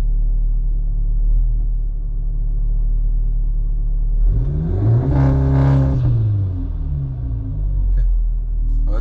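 A tuned car on a 034 Motorsport ECU and TCU holds a low idle rumble, then revs sharply for launch control around the midpoint. The engine surges loudly, holds briefly and falls back to idle, with no talking.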